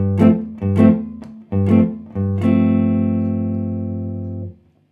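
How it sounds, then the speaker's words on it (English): A clean jazz guitar strikes a few short chords in a quick rhythm, then lets a final suspended fourth chord ring out and fade, played alone. "this gives us a very popular suspended chord sound"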